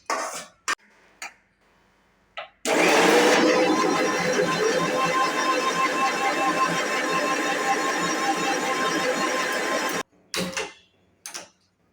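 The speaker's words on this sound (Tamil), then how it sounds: "மிக்சியில் போட்டு அடிச்சுக்கிடணும்" A mixer grinder whirs loudly and steadily for about seven seconds while grinding rasam ingredients, including turmeric, for a Kongu-style rasam. Short knocks and clatters come before and after the run.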